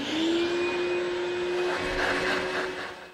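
A vacuum cleaner used with a router in a woodworking shop runs with a steady loud whine and a sustained tonal hum throughout, close and with no speech.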